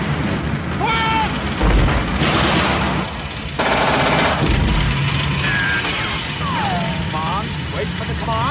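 Battle scene from a 1977 war film: dense, loud machine-gun and rifle fire with booming artillery blasts fills the scene continuously, while shouting voices and whistling sounds break through the din.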